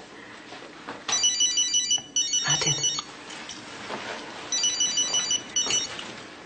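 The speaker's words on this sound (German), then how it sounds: "Ein Handy." A mobile phone rings in a quiet room at night, its electronic ringtone sounding in repeated tonal bursts, loud and close, with short pauses between the phrases.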